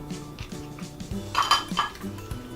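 A spoon stirs avocado ice cream mixture in a bowl with calamansi juice, giving soft scraping with a few sharp metallic clinks against the bowl midway, close and moderately quiet.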